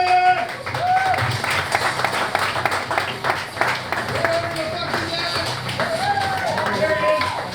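An audience at a comedy club applauds a comedian, with steady clapping and crowd noise lasting throughout, overlaid by whoops and voices.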